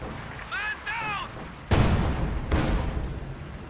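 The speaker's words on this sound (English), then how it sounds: "An Su-76 has been deployed by the AI and is barraging the center VP blindly." Su-76 artillery barrage in the Company of Heroes strategy game, two heavy booming blasts with rumbling tails, preceded by a brief rising whistle-like tone.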